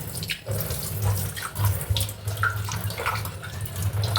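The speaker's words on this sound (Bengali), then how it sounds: "দুদিন পর পরই আমি ধুয়ে দিই পাতাগুলি" Tap water runs steadily over the leaves of a large, cement-dusted houseplant being washed, a continuous close splashing stream with no talk.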